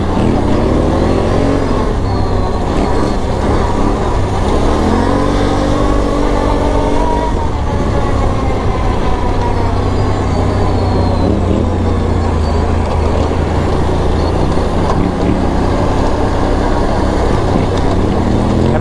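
Polaris Renegade 1000 XXC ATV engine drones loudly and steadily up close while riding over rocks on an Arizona mountain trail, its pitch rising and falling with throttle, under constant rumble and wind.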